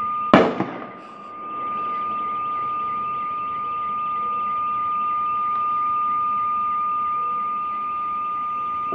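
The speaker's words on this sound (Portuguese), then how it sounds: "E atira todo momento em direção a Rhodes ali." At night in the Cambuí neighborhood, one sharp, loud bang bursts out at the start, then a steady, high electronic alarm tone drones on without a break.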